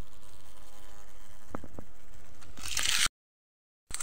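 Bees swarm around a freshly gathered wild beehive in the countryside, making a steady, close droning buzz that swells louder just before it cuts off abruptly.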